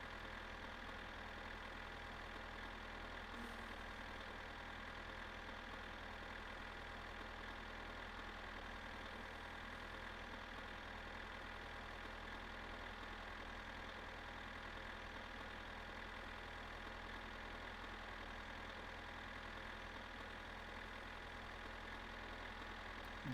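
The tractor engine in the video game My Summer Car idles as a continuous, even low drone with a rough, knocking texture, steady and unbroken throughout without any voices.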